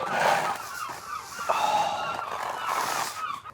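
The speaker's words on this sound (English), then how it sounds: "Seagulls are laughing at me." Seagulls calling above a polytunnel while it is being cleaned out, a steady stream of harsh, honking cries that stays loud and close throughout.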